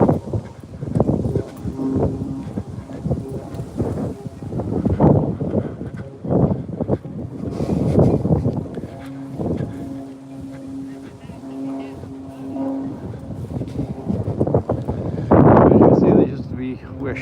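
Breezy wind by the water at an old harbour with old pilings and docking, gusting and rumbling into the microphone at fairly loud level, with people talking over it for most of the stretch.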